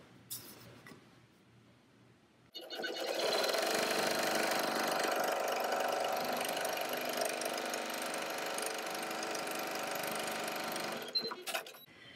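A sewing machine stitches a fabric face mask panel in place, running steadily and loudly for about eight seconds after a quieter lead-in, then stopping.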